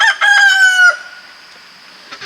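A rooster crows loudly and close by in a poultry coop at dusk, one drawn-out cock-a-doodle-doo over the first second, after which only faint rustling and soft clucks from the roosting chickens remain.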